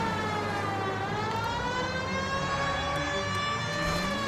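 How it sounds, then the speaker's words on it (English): A police siren from the L.A. Noire video game wails continuously and loudly, its rising and falling tones sweeping steadily over a low engine rumble with no talk. "Dang, this was a siren back in the day."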